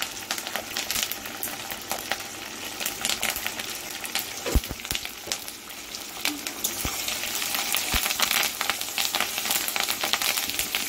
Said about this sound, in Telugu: శనగపప్పు వేగాలి.